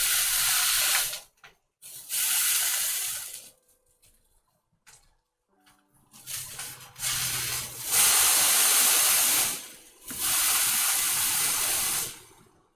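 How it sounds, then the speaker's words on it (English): A5 Wagyu steak sears in a hot pan with loud, steady hissing sizzle in several bursts, each a few seconds long, broken by brief quieter gaps as the meat is lifted and turned. "You see the searing?"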